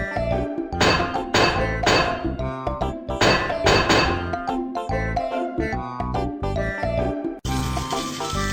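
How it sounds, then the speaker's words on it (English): Cartoonish hammer strikes ring out on steel components in a children's building game, a quick series of bright metallic clinks and clanks over cheerful music. "Hit the steel components with the hammer to align them."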